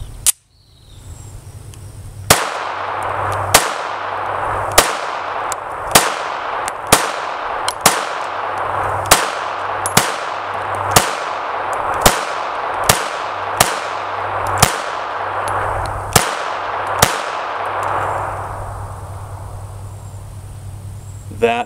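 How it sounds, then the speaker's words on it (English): A Ruger Security 380 pistol fires 100 grain Ammo Inc TMC rounds from 5 yards at an outdoor range, about fifteen sharp, loud shots at a steady, unhurried pace over constant background insect chirping. "First rounds through the new Ruger Security 380."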